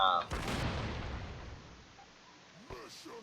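Explosive barrel shot in the Broforce video game, a sudden loud blast near the start followed by a long rumbling decay, with a voice talking briefly near the end.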